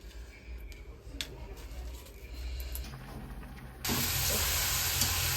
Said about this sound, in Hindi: अब जब तक ये आधी ना हो जाए इसको हिलाते रहेंगे और पकाते रहेंगे।